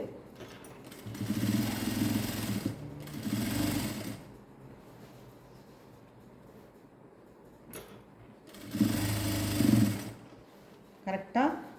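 A sewing machine stitches the fabric of a frilled gown in two close, rapid whirring bursts of several seconds each, separated by a quieter pause, with a voice talking during the clip.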